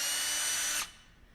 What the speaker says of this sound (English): Here's a drill. Nice and noisy.